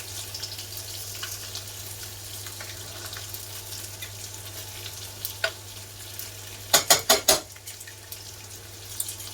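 Chicken pieces and lardons brown quietly in a pan for coq au vin, a soft, steady sizzle under a low hum, broken near the end by a quick burst of four sharp clatters from the pan or utensils.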